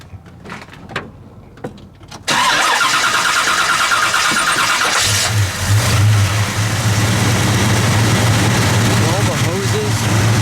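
A 1970 Buick GSX 455 Stage 1 V8 cranks and catches with a loud burst, then settles into a deep, steady, rumbling idle. Brief talk and clicks come before the start.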